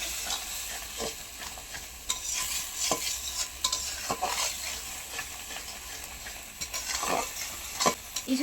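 Prawn curry simmered with coconut milk is stirred and fried in a pan, a continuous close sizzle and hiss with repeated scraping strokes of a spoon against the pan and no voices.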